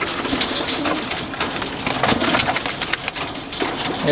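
Pigeons in a homemade loft give soft, repeated throaty coos up close, overlapping in an irregular rhythm against a light background hiss.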